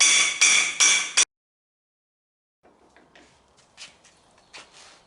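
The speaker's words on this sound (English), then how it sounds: "put it on that piece of pipe and then just take my hammer" A hammer strikes a piece of pipe to bend a curve, probably bodywork on a 1962 Comet: a few loud, sharp metallic blows, then a gap, then lighter tapping and clinks.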